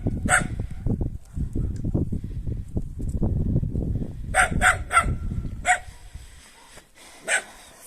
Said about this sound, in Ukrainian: Собачки. Чого ти гавкаєш?